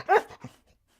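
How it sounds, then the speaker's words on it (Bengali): A single short dog bark, close and fairly faint, followed by a softer yelp that fades out quickly. "ডগের ডাক আছে।"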